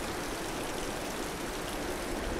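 Rushing waterfall and stream in Tomb Raider (2013), a dense, continuous broadband roar of flowing water, steady and fairly loud with no voices over it.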